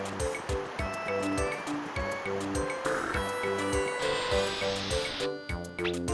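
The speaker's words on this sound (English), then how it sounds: "Waterfall." A video game waterfall in Paper Mario 64 gives a steady rushing wash of water under looping game music with a bouncy, repeating bass line.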